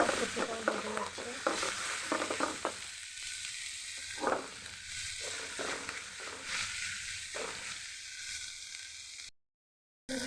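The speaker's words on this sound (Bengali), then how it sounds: "ভালো মতো মশলা আর শুটকিটা ভেজে নিচ্ছি" Dried gokul fish shutki frying with spices in a pan, a continuous crackling sizzle broken by bursts of stirring and scraping, heard close and alone before a brief cut to silence.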